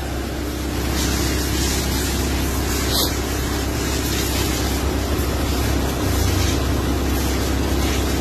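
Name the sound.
Mitsubishi Lancer engine running during break-in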